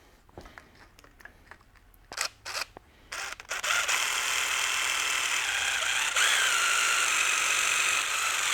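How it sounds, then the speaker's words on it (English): Power drill boring through pre-drilled holes in brake banding metal: a few short clicks and bursts of the tool at first, then a steady continuous whining drill run that lasts several seconds, close and loud. "we're gonna drill through each one of these holes so that I can get location from the outside to put the countersink in"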